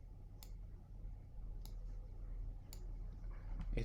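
Computer mouse clicks while working in Android Studio: three faint, sharp clicks spaced about a second apart over a low steady hum.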